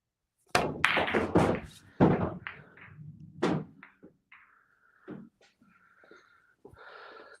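Pool balls struck on a combination shot toward the side pocket give a few sharp, close clacks early on, followed by softer rolling knocks and thuds that fade out.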